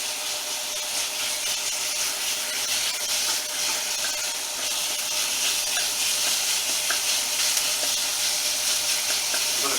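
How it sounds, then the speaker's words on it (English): Sausage meat browning in a pan for Portuguese caldo verde, a dense, even sizzle with rough scraping and stirring texture, close and constant throughout. "In with the sausage meat. Now we'll just get that browned off."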